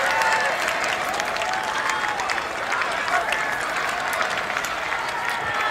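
A large crowd applauds steadily outside the Welsh Parliament for a royal visit by King Charles III, heard from a moderate distance as a dense, continuous patter of clapping throughout.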